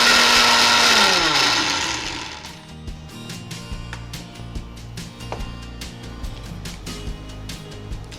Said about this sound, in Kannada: ಮಿಕ್ಸಿ ಮಾಡಿ ನೈಸ್ ಆಗಿ ಪೌಡರ್ ಮಾಡಿ